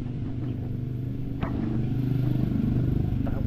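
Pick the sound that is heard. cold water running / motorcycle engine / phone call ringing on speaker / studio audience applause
motorcycle engine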